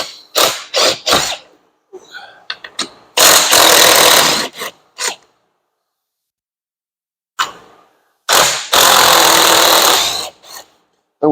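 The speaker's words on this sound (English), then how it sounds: "Got to get these 4 bolts off to get the track off." A power tool spins bolts out of a car seat track, giving quick ratcheting bursts and longer loud whirring runs separated by quiet gaps.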